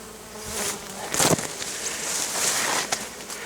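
Bees buzz steadily nearby, a dense droning hum with a few louder passes as individual insects fly close.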